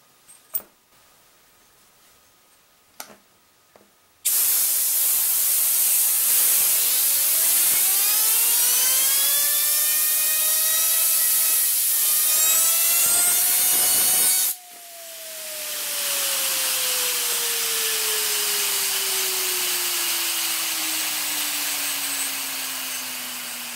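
An air compressor blasts air onto a spinning VCR head gyroscope: a loud, steady hiss with a rising whine as it spins up, then the air cuts off and the whine slowly falls in pitch as the head winds down.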